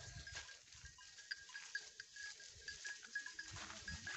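Goats graze in a long meadow between jungle patches in a Nepali village, heard as faint, distant bleats and soft rustling over a quiet, steady outdoor background.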